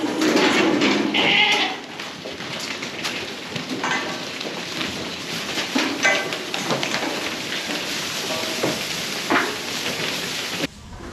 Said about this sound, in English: Close the doors, get those both goats back in their pen.